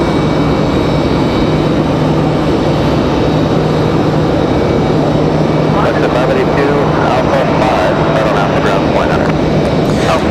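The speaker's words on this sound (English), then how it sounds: "on to Iceland, that 737 MAX 9. That next arrival here." An Icelandair Boeing 737 MAX 9 arrives at Raleigh-Durham airport with a loud, steady engine roar and heavy low rumble throughout, and crackling wind noise swells near the end.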